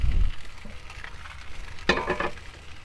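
Large sausages frying slowly over medium-low heat in a pan, a soft steady sizzle with light crackles and a brief scrape of stirring, close and quiet with no talking.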